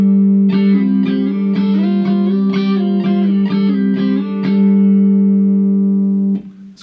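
Distorted electric guitar chords slide the same shape up and down the neck in a repeating pattern, loud and sustained, then cut off abruptly at the end.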